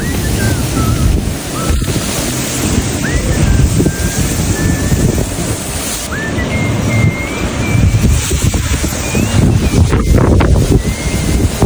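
Strong wind from Typhoon Kristine roars continuously, buffeting the microphone with heavy rumbling gusts, along with faint high whistling tones.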